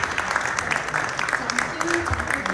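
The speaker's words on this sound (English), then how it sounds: "I want to also suggest a round of applause for our captain and commander tonight" A room of listeners at a bookstore talk event gives a round of applause, a busy patter of clapping with scattered voices mixed in, moderately loud and fairly even throughout.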